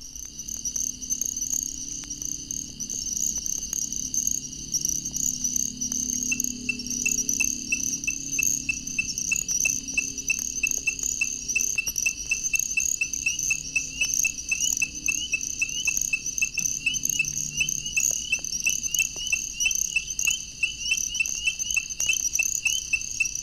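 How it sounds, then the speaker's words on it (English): A nighttime frog chorus in Florida south of Gainesville: little grass frogs joined by ornate chorus frogs and spring peepers, a dense steady layer of high, rapid, insect-like trills and peeps running continuously with no voices. "The quiet sounds of little grass frogs are joined first by ornate chorus frogs,"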